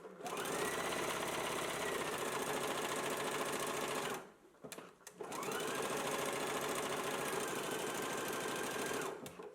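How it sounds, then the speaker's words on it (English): A sewing machine stitches a band in place along a garment seam, running steadily at close range for about four seconds, pausing briefly, then resuming a long continuous run. "Let's go ahead and stitch our band in place now."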